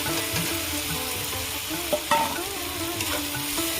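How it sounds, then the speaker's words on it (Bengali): Fried potatoes stirred into a bubbling gravy in a pan give a soft, steady sizzle with a few spoon scrapes and knocks, close and fairly quiet, no talking. "ভালো করে কষিয়ে নেবো"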